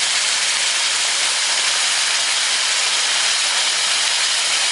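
Loud, steady hiss of steam as water is poured into a hot pan while cooking chicken, continuous broadband sizzle with no voices.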